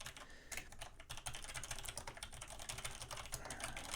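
Rapid, steady keystrokes on a computer keyboard while entering an inventory adjustment in business software, a continuous close clatter with no talking.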